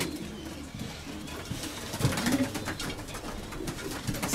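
Pigeons coo softly in a busy, noisy setting, their low throaty calls repeating amid background clatter and murmur.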